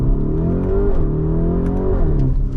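A 2023 Lamborghini Urus S engine and exhaust pull hard under acceleration, a loud continuous rising drone with a steady harmonic growl that dips and climbs again as it shifts, heard from inside the cabin with no talk.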